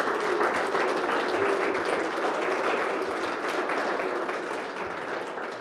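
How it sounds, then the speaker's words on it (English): An audience at a senior capstone art gallery talk claps for graduating students, a thick, sustained wash of applause lasting several seconds and fading slightly toward the end. "let's also give a final round of applause for all of the participating students who are graduating."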